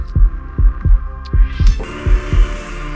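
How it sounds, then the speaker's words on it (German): Loud, deep heartbeat thumping in a quick, steady rhythm, with a low hum and a rising tone swelling in beneath it partway through. "Dein lauter Herzschlag beim ersten Kuss."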